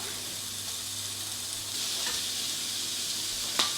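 Onions fry in a pan, a steady bright sizzle throughout that swells slightly midway as they are stirred, with a small clink near the end.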